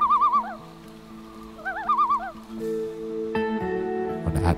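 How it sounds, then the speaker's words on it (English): Wavering, warbling common loon calls repeat twice in close succession over a steady low hum, on a misty lake in Algonquin, followed by a rising tonal sound and a brief clatter at the end. "the unmistakably eerie but soothing sounds of the loon"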